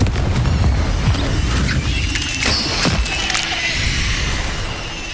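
Hogwarts Legacy combat: a Confringo fire spell explodes amid dense, loud crashes, booms and magical mechanical effects layered throughout, with a continuous roaring rumble beneath sharp bursts.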